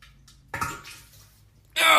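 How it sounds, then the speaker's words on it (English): A toilet flushing, heard as a sudden close rush of water that cuts in at the very end after a brief stretch of speech and room noise. "You might hear the toilet flush"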